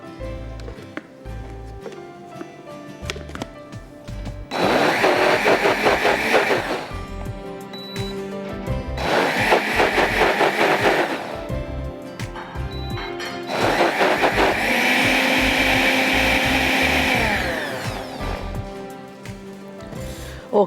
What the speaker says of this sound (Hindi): ब्लेंड हो जाए सारे बादाम।